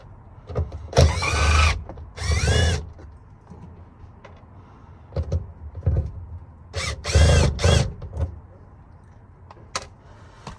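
A power tool works the fuel pump assembly bolts on a 1992–1996 Lexus ES300, Toyota Camry or Avalon. Several short, loud whirring bursts come in two clusters, separated by quiet gaps with faint clinks.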